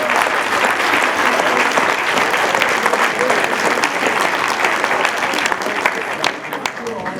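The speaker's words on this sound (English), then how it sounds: "Let's give our panelists a round of applause" Audience at a debate event applauding its panelists, a full, dense round of clapping that holds steady for several seconds before thinning out toward the end, with scattered voices underneath.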